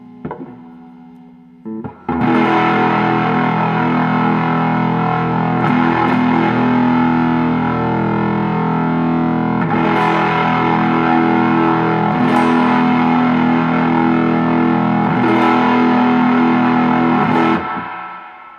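Sustained, heavily fuzzed electric guitar chords through a germanium Fuzz Face pedal ring out loud and thick, struck again every few seconds and left to sustain, with a buzzing, saturated, slightly muddy tone.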